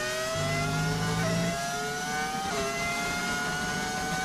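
A Ferrari Formula 1 engine, a V8 hybrid, revs in a racing game, its whining pitch climbing and dropping through gear shifts, steady and moderately loud with no talking.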